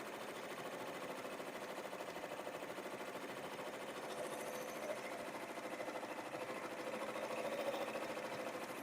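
A home embroidery machine stitches out an awareness ribbon angel design, a continuous rapid needle chatter humming steadily at close range throughout.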